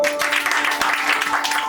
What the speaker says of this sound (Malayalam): കൈയടി കൊടുക്കാം.